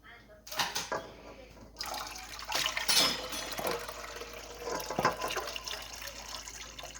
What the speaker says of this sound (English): you must add your warm liquids.